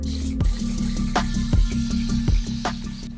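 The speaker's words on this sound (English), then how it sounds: "This is just water. I'm going to saturate my hair." Water is sprayed or poured onto hair in a steady close wash, with a continuous watery hiss broken by a few sharp drips and spritzes, no voices.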